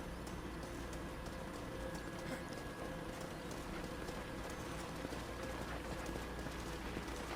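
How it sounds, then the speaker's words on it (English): A horse's hooves clip-clop in an even, running rhythm in Red Dead Redemption on PS5. The hoofbeats are steady and moderately quiet over a constant low game-world ambience. "What is this horse doing?"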